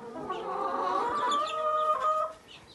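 Farm poultry including Embrapa and Leghorn chickens and guinea fowl, a cluster of clucks and squawking calls close by, overlapping and fairly steady, fading slightly toward the end.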